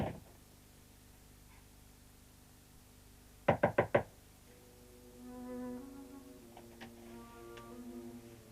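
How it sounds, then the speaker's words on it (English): A quick series of four sharp knocks on a door, loud and close, breaks a quiet room, followed by soft tonal music. "don't come out until I knock"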